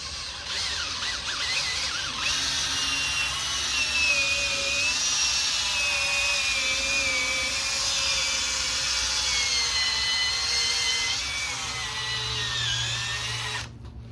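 A Makita cordless power tool, set to speed 2 while working on a SYM VS150 scooter, runs in one steady high whine close up for the whole stretch with no pauses, then cuts off at the end.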